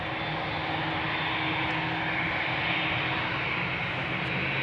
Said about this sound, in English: This is KLM flight 757 A7879 Dreamliner going to Panama City.